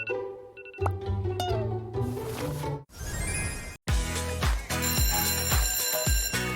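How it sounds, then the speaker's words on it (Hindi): An electronic bell rings in bursts amid shifting tones and music-like sounds, loud and close, with short pauses between segments. "ओह, बेल बज गई।"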